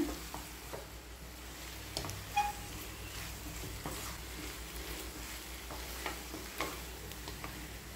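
Chana masala and okra stir-fry being stirred in a pan, soft intermittent scraping and light sizzling at low volume, with occasional sharp clicks of the spoon against the vessel.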